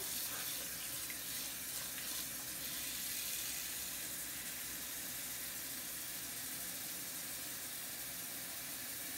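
Water pours steadily from a tap into a pot, a continuous hissing splash that holds even and close throughout.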